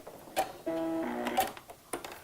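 A sewing machine back stitching along the edge of a fabric coin purse runs in a short, quiet whirring burst lasting under a second, with soft ticks and clicks before and after.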